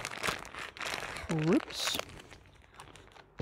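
Tape pressed onto a plastic oyster mushroom grow bag, with soft crinkling and crackling of the plastic in short bursts, while a person talks nearby.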